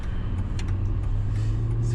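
A Mercedes E63 wagon V8 idles smoothly and steadily at close range, a low, even rumble with faint background noises and no revving.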